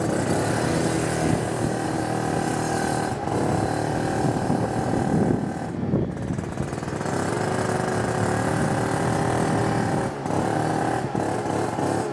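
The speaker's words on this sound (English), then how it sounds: "Let's make sure our choke's off, and I'll just throttle it." A Yamaha BWS 50 scooter engine running rich with the choke off, throttled in a steady, close, continuous drone with slight dips in pitch and level.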